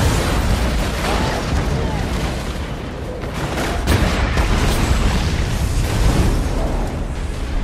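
A chemical explosion in a comedy movie scene, heard as a loud, sustained roaring burst with crackling pops and a rumbling low end across several seconds, with no talking over it.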